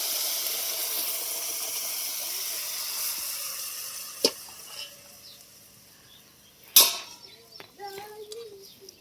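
Water tipped into a hot pan of cooking vegetables, bursting into a loud sizzle and hiss that quickly settles into quiet bubbling, with a couple of sharp spikes as it hits the hot surface.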